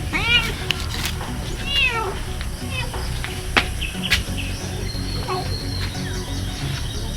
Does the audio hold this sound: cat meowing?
yes